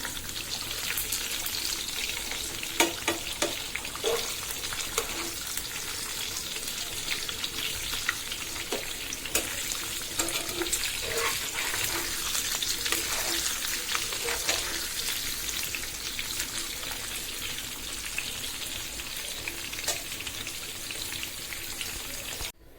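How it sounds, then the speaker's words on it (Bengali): Eggs fry in hot oil in a wok, a continuous dense sizzle and crackle with scattered spits and pops, steady and close throughout. "একটা ডিম ভেজে তুলে নেওয়ার পর আমি আরেকটা ডিম দিয়ে দিলাম।"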